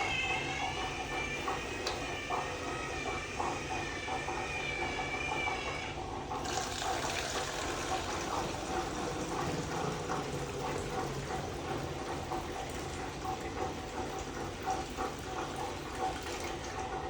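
Liquid pours out of an AGO film processor in a steady continuous stream, with a sloshing, trickling wash that shifts partway through and runs on to the end, close and moderately loud with no talking.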